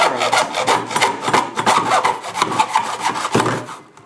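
A hand saw cuts through a wooden screen frame held in a miter box, steady rhythmic rasping strokes about five per second, loud and close, slowing and fading at the end with no talk.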